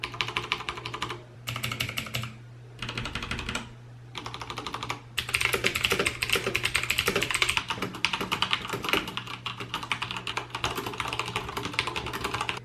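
Mechanical keyboard with blue, red and brown switches, keys clacking in bursts of fast typing, separated by short pauses, then a longer continuous stretch of steady, close clicking.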